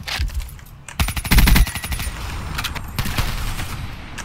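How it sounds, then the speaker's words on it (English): Rapid gunfire bursts from the video game Call of Duty: Black Ops 3, loud and close, with a dense volley of repeated shots mid-way and lighter scattered firing around it. "Where am I getting shot from?"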